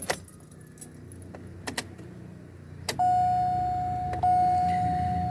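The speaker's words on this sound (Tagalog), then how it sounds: "Susi na, susi." Car keys jangle in several sharp, bright bursts near the microphone inside a car before a driving test, followed by a steady electronic chime as the ignition is switched on.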